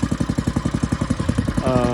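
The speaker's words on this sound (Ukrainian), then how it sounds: "Сьогодні на обзорі у нас буде такий саморобний тракторець." A homemade small tractor's engine runs close by with a loud, steady, rapid chugging pulse throughout, and a brief higher whine joins near the end.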